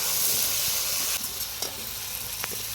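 Curry of bottle gourd stems with mustard and chilli paste fries in a pan with a loud, steady close sizzle, easing slightly midway as stirring scrapes and small pops continue.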